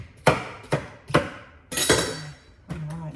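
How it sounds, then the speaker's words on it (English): A knife chops greens on a cutting board for raw green juice, five sharp separate strokes that are close and fairly loud, with no talk. "Chopping it up a little bit"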